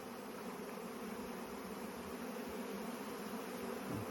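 A swarm of honey bees clustered over a whole beehive at an apiary, making a continuous low buzzing drone that hums quietly and evenly in the background.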